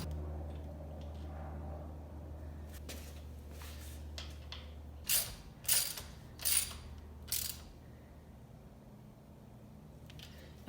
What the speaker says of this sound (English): what I'm gonna do here is actually just loosen this guy up and try a different bolt